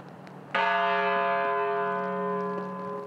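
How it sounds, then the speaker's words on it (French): A church bell in Newtown strikes once, loud and close, its long ringing tone with layered overtones decaying slowly over several seconds against faint background noise. "des cloches ont sonné 26 coups."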